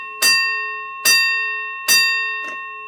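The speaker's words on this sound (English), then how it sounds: "It's an 8-inch fire alarm bell hooked to this button." An 8-inch fire alarm bell, rung by pushing a button, gives three loud, sharp strikes about a second apart. Each one rings out and decays, and a fainter fourth hit follows.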